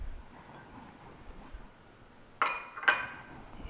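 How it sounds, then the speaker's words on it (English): A second egg going into cocoa brownie batter with a spoon: quiet background, then two sharp, close glassy clinks of a spoon against a bowl about half a second apart. "And I'm going to add the second egg."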